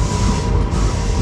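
A train rumbles by at close range, producing a loud, steady roar of rail noise with a faint tonal hum that holds throughout the brief moment, with no voices.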